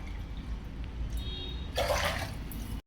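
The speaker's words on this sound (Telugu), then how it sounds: "ఇప్పుడు మనం ఒక కప్పు సేమియాకి 2 కప్పులు వాటర్ వేసుకోవాలి." Water poured into a pan on the stove for vermicelli kesari, a low rumbling background then a bright rushing splash of pouring in the last second before it cuts off.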